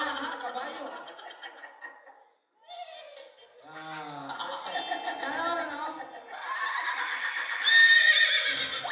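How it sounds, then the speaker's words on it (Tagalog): A horse neighs in several loud whinnies, rising and falling in bursts, with a brief pause near the start and laughter-like voices mixed in. "nagtingog sa kabayo"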